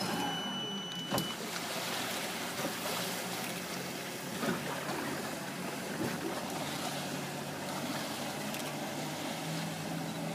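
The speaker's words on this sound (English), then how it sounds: "I'll just fire off that boat" A boat engine drones steadily and close by, a broad constant rumble with faint splashing water and no voices.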